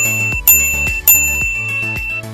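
A bright bicycle-style bell rings in a quick series of clear metallic dings with ringing overtones, loud and close with no voices.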